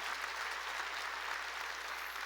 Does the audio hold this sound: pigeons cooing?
no